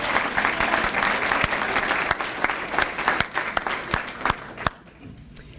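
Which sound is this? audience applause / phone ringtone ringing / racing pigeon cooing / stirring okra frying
audience applause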